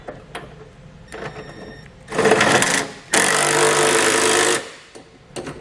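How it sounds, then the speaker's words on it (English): A trailer hitch's bolts are tightened with a deep well socket on a power impact tool, giving two loud buzzing bursts, a shorter one and then a longer sustained run, close up with no talk. "We'll use the same size socket, but you're going to need a deep well to get those tightened down"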